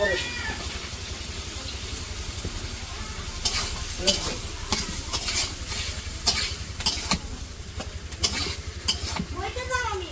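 Tangra fish cooks with tomato in a pan in a Bangladeshi village kitchen, a steady sizzle with scraping stirs, while a cat meows several times and low background noise hums beneath.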